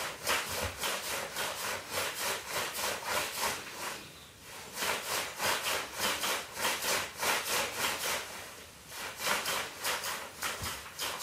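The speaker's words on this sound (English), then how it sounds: "this is my shoe brush, does the same job" A shoe polishing brush rubs wax onto wooden shelving in a Japanese tea house interior, giving rhythmic back-and-forth bristle scrubbing strokes, close and steady with a brief pause midway, no speech.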